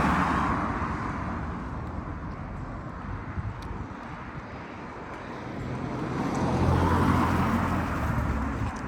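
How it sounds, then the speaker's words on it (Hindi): Steady roar of road traffic from passing cars on a street in the UK, continuous and fairly loud, swelling as vehicles pass near, with no talking. "बहुत नॉइज़ है यहाँ गाड़ियों की इस वक्त।"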